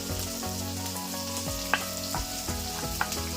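Onion, green and dried chillies, ginger and curry leaves sauté in a pan with popped mustard seeds, a steady close sizzle broken by regular scraping stirs, alone without voices.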